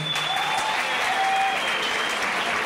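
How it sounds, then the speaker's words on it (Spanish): Festival crowd at a salsa dance event applauding between acts on stage; broad, continuous clapping from a large audience, steady and even throughout, with faint whistles or tones above. "Aplausos"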